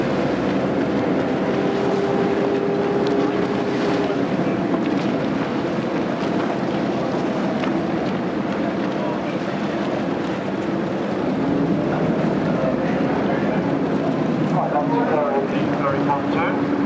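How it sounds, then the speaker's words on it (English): Gosport ferry boats still running their original Gardner engines cross Portsmouth Harbour, heard as a steady low engine drone and water wash under continuous wind noise and voices throughout. "ships just coming across in front of us. Still on their original Gardner engines"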